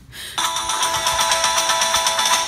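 A phone ringtone starts abruptly and rings loud and continuous in a repeating electronic pattern, close by, with no talk over it.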